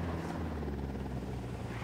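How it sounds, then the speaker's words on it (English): A helicopter in the Ghost Recon Wildlands video game flies overhead, a faint, steady rotor rumble and whir heard briefly at low level. "hold on, there's a chopper up there."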